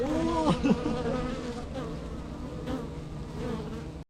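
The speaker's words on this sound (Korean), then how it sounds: "꿀벌들이 나오네." Honeybees swarm around a hive on a bee farm in Vietnam, a dense, steady close-up buzz that fills the air throughout, with wings droning at an even pitch.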